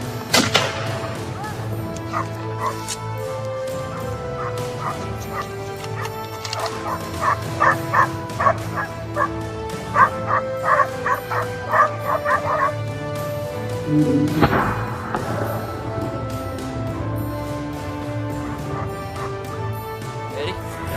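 Several hunting dogs bark in bursts of sharp, excited yelps while cornering wild boars, some near and some farther off, with a voice occasionally heard among them.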